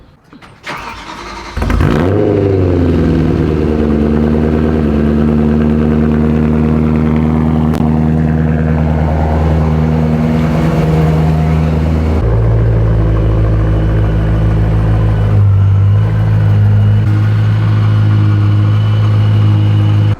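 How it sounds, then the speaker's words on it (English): A loud BMW M3 fires up from cold with a sharp burst of revs, then settles into a steady, rumbling high idle that drops slightly lower later on, close and prominent throughout. "One cold start for the boys coming right up."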